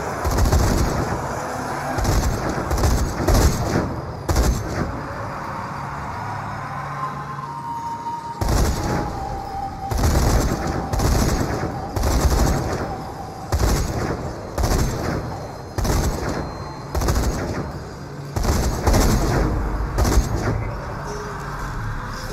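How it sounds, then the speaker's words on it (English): Mounted gun turret firing in the zombie shooter Zombie Army 4, repeated loud machine-gun bursts in regular rhythm separated by short pauses, with battle ambience underneath. "Gun turret right here."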